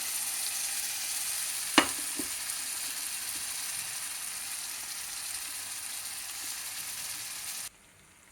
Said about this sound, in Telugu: చూడండి మసాలాలు వేయించుకున్నాము.